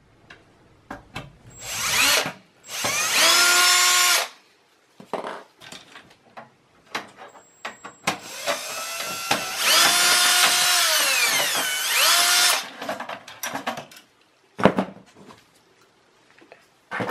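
A power screwdriver backs out screws from the rear system fan of an HP Pavilion desktop, with several loud whirring bursts of rising and falling pitch, separated by clicks and handling clatter.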